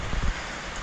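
Heavy storm rain falls outdoors near a house, a steady hiss of drops on surfaces, fairly faint, with a few brief louder patters at the start.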